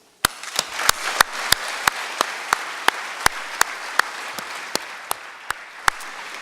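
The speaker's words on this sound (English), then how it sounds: "let's give a round of applause, please" An audience at a conference closing plenary applauds over a steady wash of clapping. Loud, evenly spaced claps stand out in a regular rhythm, close to the microphone, for about six seconds.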